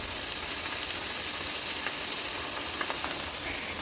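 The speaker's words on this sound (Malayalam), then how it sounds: "അപ്പോൾ മീൻ അവിടെ ഇരുന്ന് വേവട്ടെ." Fish frying in a pan with a steady, soft sizzle and fine crackling, continuous throughout and close, with no voices.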